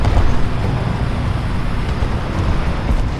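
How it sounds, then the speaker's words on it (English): A steady airplane engine drone in War Thunder, a loud, rough, continuous roar with slight swells in level and no talk over it. "That's the engine, right? Plane."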